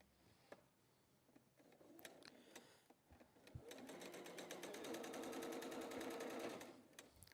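A sewing machine stitches a row of quilt pieces, starting in short bursts and then running steadily and rapidly for several seconds before stopping.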